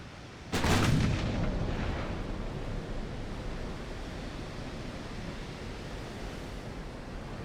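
A naval artillery salvo fires in the video game Ultimate Admiral: Dreadnoughts, one sharp loud boom followed by a long rumbling decay into steady sea-like noise.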